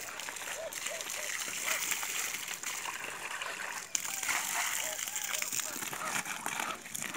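An old duck feeding bowl is rinsed and scrubbed with water, giving continuous splashing and sloshing close by, with a person talking over it.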